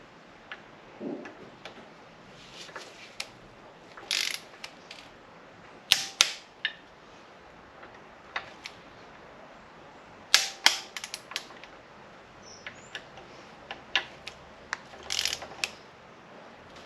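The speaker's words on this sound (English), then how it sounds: "we need to torque them to 10 Newton meters. So this is where the torque wrench came in" A torque wrench tightens the cam follower bolts on a VW/Audi 2.0T FSI engine. Sharp clicks and metallic snaps sound close by in irregular clusters over a quiet background, with no speech.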